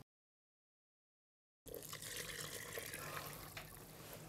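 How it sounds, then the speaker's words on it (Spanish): Water pours steadily into a bowl of vegan, gluten-free buckwheat bread dough ingredients, a soft continuous trickling splash starting after a silent pause, close and quiet. "Añadimos el agua."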